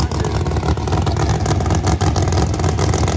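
The loud, roaring engine of the Murder Nova drag race car, testing at Bradenton, runs steadily throughout, close and continuous, with a rough, revving texture.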